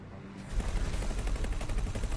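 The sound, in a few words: missile fired in the X4 space video game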